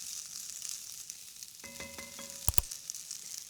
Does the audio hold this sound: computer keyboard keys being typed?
no